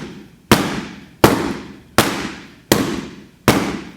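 A heavy bag takes five sharp Filipino martial arts strikes at an even pace. Each impact is loud and abrupt, with a short decaying resonance after it.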